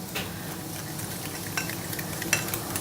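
Olive oil sauce stirred with a small fork in a restaurant kitchen, a soft continuous scraping hiss broken by a few light metallic clicks of fork against the dish.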